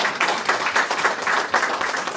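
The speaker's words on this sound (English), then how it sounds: "Let's give him a round of applause." An audience at a panel discussion applauding, a dense, loud burst of clapping from many hands sustained evenly throughout, with no talk over it.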